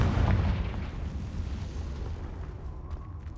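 A Confringo fire spell bursts inside a cave in Hogwarts Legacy with a loud, booming explosion that starts hard and rolls off into a low, sustained rumble over about three seconds.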